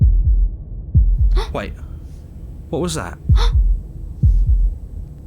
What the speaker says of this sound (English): That was the sound of a heartbeat, followed by another